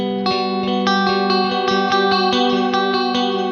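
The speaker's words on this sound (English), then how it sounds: "So let's start with the reverb off and just listen to the delay." Electric guitar played through a Line 6 DL4 MkII delay pedal with reverb off, steady sustained tones with evenly spaced repeats pulsing about twice a second, loud and alone.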